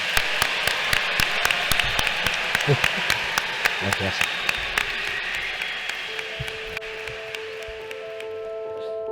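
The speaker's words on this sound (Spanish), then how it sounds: "les voy a pedir un gran aplauso para Víctor del Árbol" Audience applause for author Víctor del Árbol at a library event, a broad wash of clapping with sharp individual claps standing out, fading toward the end as a sustained tone enters and a voice briefly speaks.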